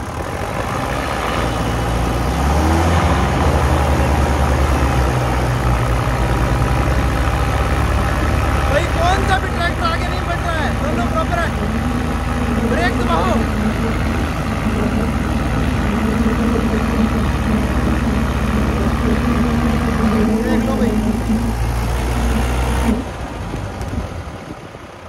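Mahindra 575 DI XP Plus and Arjun 605 DI tractors idling side by side before a tug-of-war pull, a loud, steady low engine drone that runs unbroken and cuts off near the end, with voices over it.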